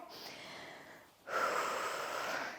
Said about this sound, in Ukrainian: Зробимо глибокий вдих і видих. Подихаємо.